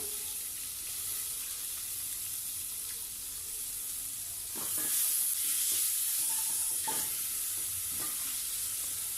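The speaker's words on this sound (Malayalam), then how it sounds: "ഇനി നമുക്കിതിലേക്ക് ഒരു വലിയ സവാള അരിഞ്ഞത് ചേർത്ത് കൊടുക്കാം" Onion, green chilli and ginger-garlic paste frying in a pan, a soft sizzle that grows louder midway as stirring strokes scrape through, close and without talk.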